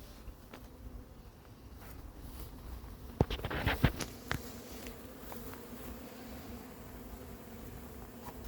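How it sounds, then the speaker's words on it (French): Honey bees buzz around a hive at an apiary, a soft, steady hum with a brief burst of nearer, louder buzzing midway, faint and alone. "il y a beaucoup d'abeilles"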